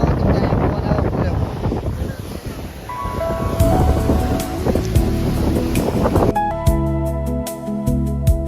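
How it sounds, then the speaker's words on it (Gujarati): Strong wind buffets the microphone at a seashore beside the Ratneshwar Mahadev temple among the sea waves. Steady, heavy rumbling gusts run throughout, with some tonal sounds entering toward the end. "અવાજ એટલો ન આવે કેમ કે પવન આવે પૂરે."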